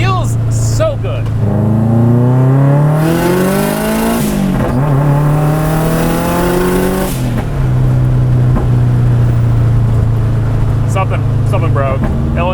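A garage-built all-wheel-drive turbocharged Mazda Miata accelerates at full throttle. Its loud, close engine drone climbs in pitch, dips briefly at a shift, then climbs again.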